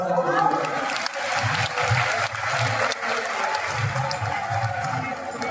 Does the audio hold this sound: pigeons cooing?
no